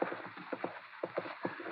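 Hoofbeats of a single unhobbled horse moving freely in a radio drama set among Texas Rangers by a riverside, a steady clip-clop rhythm of distinct hoof strikes, fairly close and alone with no talk.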